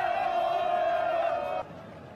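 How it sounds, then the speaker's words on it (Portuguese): Atlético Acreano fans at Estádio Florestão in Acre during a Série C match against Paysandu, a loud sustained crowd roar and chant that suddenly drops off near the end. "a torcida do Galo aumenta o volume"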